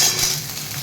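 Taro and potatoes hiss and sizzle as they fry in hot oil with onions, a short, steady, close crackling with no voices.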